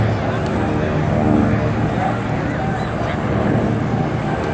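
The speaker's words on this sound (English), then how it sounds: "P-51 coming in from your left, providing rear cover for the Devil Dog, the Marine Corps PBJ." A P-51 Mustang warbird flies in at an airshow, a steady broad engine roar that holds at a fairly constant loudness throughout, with a faint voice underneath.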